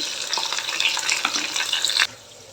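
Popu tempering with curry leaves and chili powder sizzles loudly as it hits rasam, a dense crackling hiss that runs steadily for about two seconds before cutting off to quiet.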